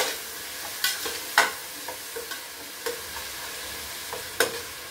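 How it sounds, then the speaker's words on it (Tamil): Tomatoes sautéing in a pan while vegetable biryani is being made, with a low steady sizzle broken by several sharp scraping stirs of a spoon against the pan, close by and with no talking. "தக்காளி இன்னும் வதங்கணும்"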